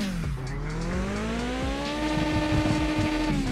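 A car in the driving game Mon Bazou drifts with a sustained, loud tire squeal whose pitch dips and then rises over the engine's steady roar, close and continuous, with no voices.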